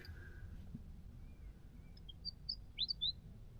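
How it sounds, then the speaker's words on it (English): Small birds chirp and sing close to a parked car on a Western Australia road trip in Geraldton, with a few faint, sparse tweets rising to a quick cluster of brighter calls near the end over a low ambient rumble. "it was little birds just landing on our car"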